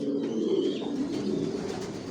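Racing pigeons coo in a loft, a soft, continuous low murmur of overlapping calls close by, with faint higher chirps now and then and no talking.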